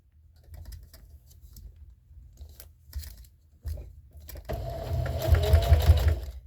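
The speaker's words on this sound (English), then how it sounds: "when I'm starting at a corner, I back stitch a little bit because I want this to be strong" Sewing machine back stitching a fabric jar gripper, with quiet handling taps and low mechanical hum first, then a close, loud stretch of fast rhythmic needle stitching running to the end.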